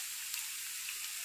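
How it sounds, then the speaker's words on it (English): Garlic sautéing in a pan for garlic shrimp gives a steady, faint hiss of sizzling with no breaks or voices. "I like to get that garlic sauteed"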